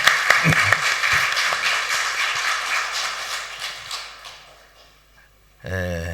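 Church congregation clapping together, a dense wash of applause that gradually thins and fades out, followed by a brief voice at the end.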